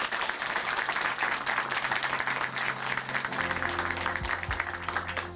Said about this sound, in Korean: 다시 한번 응원의 박수 보내드리겠습니다.